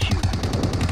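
Rapid automatic gunfire in the shooter game PUBG Mobile: a steady stream of close, punchy shots at roughly ten per second, loud and continuous through the whole second with no talking.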